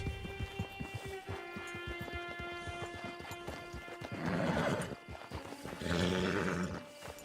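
Steady clip-clopping hooves over music, then a horse gives two loud, drawn-out neighs close by, in the video game Red Dead Redemption Online.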